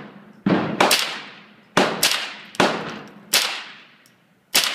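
Five sharp rifle shots from an AR-15 chambered in .22 at an outdoor target range, spaced irregularly, each a loud crack with a decaying ring, with no talk between them.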